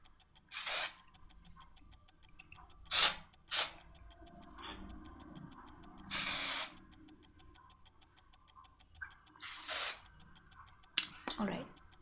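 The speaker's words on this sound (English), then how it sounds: "if you want the curls to hold for long, then just take a volume spray and just go" A volume spray for curled hair fires several short hissing bursts, separate sharp sprays spaced a few seconds apart, close up against a quiet room with a faint ticking in the background.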